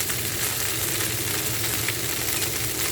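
Boiled spicy Chinese noodles frying in a pan, a loud, steady close-up sizzle with a faint low hum beneath and no talking.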